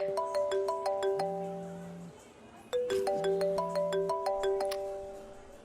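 A mobile phone rings close by with a repeating electronic melody in two bursts, each a run of bright chiming notes, with no voices.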